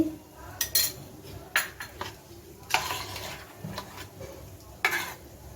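A spoon clinks and scrapes against a bowl while stirring an egg mixture with mustard oil, a handful of sharp taps spaced irregularly over a faint low background, close by.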